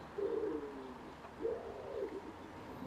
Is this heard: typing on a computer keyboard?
no